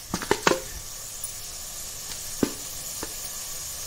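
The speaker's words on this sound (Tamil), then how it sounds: "இப்போ பெருஞ்சீரகம் சேர்க்க போகிறோம்." Fennel seeds sizzling in hot oil alongside mustard seeds and urad dal, a steady background hiss broken by a few sharp pops and crackles, clustered early and then sparse.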